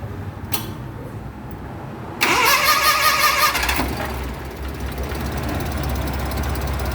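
A four-cylinder, 16-valve engine in a tuk-tuk cranks and starts with a brief whining squeal, then settles into a quiet, steady idle hum close by.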